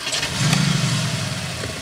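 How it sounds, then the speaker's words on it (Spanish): Cupra Formentor engine fired up with its start button: a quick crank and catch, then a steady low idle rumble held close and loud, with no one speaking. "botón de arranque y afinamos los oídos"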